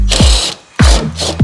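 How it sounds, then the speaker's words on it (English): Ratchet wrench turning a T27 Torx bolt where the fender meets the front bumper of a Maserati Ghibli, two bursts of rapid close clicking separated by a short pause, loud and alone. "It's a T27 bit that you need to loosen up to separate these"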